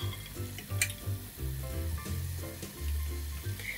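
Spoonfuls of bolinho de chuva batter frying in hot oil, a steady close sizzle and bubbling with no voices.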